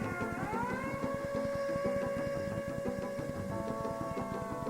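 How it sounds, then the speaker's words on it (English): A siren wails steadily and loudly, its tones rising at the start and then holding over a dense, rapidly pulsing rumble that continues throughout. "Suddenly, they heard the sounds of a siren."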